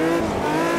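A race car in the sim racing game Automobilista 2 screams at high revs, a steady, harmonically rich engine wail held close and loud for under a second with faint tyre squeal.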